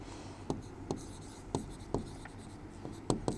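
Pen writing notes on paper, a series of short, distinct scratchy strokes at a steady, unhurried pace, close and fairly quiet with no talking.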